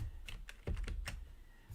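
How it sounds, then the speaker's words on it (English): Keyboard keys and a mouse click in short quiet taps, about half a dozen in quick irregular succession, close by with no talking. "Clicking."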